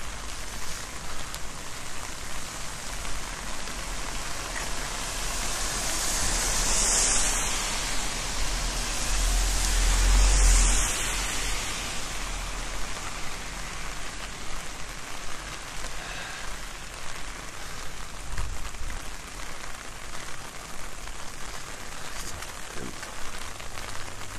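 Steady rain falls outdoors during a long walk from Takao Station toward Shinjuku, a dense even hiss that swells briefly near the middle and stays constant throughout, with no talking.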